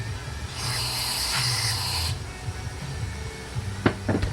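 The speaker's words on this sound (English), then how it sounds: "make sure you spray it out a little bit more" A sustained hiss of aerosol cleaner spraying into a 1998 Force 50 HP outboard carburetor during a rebuild for about a second and a half, followed by quieter handling clicks and taps.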